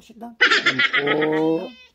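A pet cat gives one drawn-out, wavering meow up close, loud and alone after a brief faint sound.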